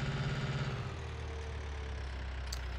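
Tractor engine idling in the Farming Simulator 19 video game, a steady low rumble with a brief throbbing pulse at the start, then settling into an even drone.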